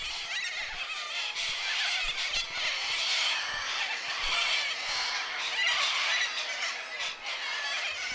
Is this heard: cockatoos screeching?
yes